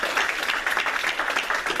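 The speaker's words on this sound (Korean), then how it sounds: "우리 큰 격려의 박수 축하의 박수 하도록 하겠습니다" A church congregation claps together during a Sunday worship service, a dense burst of many hands applauding at once, fairly close and steady throughout.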